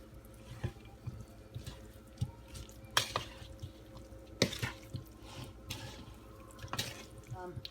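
Potato salad with mayonnaise being stirred in a bowl: quiet, wet squelching and soft clicks of the spoon, coming in uneven strokes, close but faint.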